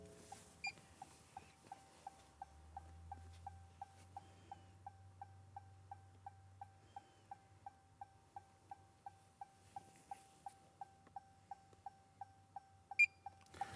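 A Snap-on Apollo D9 diagnostic scan tool gives a short electronic beep on auto-identifying a vehicle, repeating at a fast, even pace, quiet and steady, over a faint low hum.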